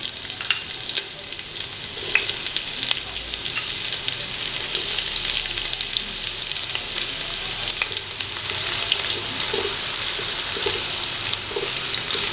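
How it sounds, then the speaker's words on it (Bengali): Chopped onions fry in hot oil with cardamom, cloves and cinnamon for Kolkata-style chicken biryani, a loud, continuous sizzle with steady crackling and occasional stirring scrapes, close up and with no talk. "পেঁয়াজ কুচি দিয়ে দিচ্ছি।"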